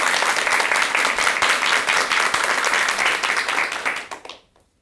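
An audience at a Buddhist monk's Dharma talk breaks into steady, full applause, which fades out quickly and leaves silence.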